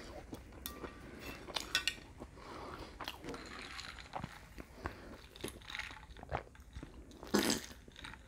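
Close, intimate chewing of halibut and soggy brown fried rice during a mukbang, with soft crunches, wet mouth sounds and occasional cutlery clinks at an irregular pace, no talking.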